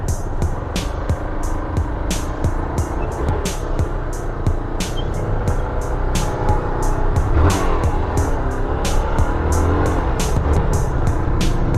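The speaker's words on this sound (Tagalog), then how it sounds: "hanggang Lunes pa to sigurado itong traffic na ito" Heavy road traffic on a congested highway, with a continuous engine rumble and cars passing close by one after another, joined by repeated sharp clicks or ticks throughout.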